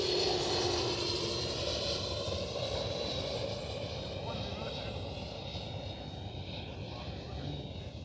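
A Freewing de Havilland DH-112 Venom radio-controlled model jet in Swiss red livery makes a flying pass, its steady whooshing drone holding throughout and fading slightly, heard outdoors with people talking over it.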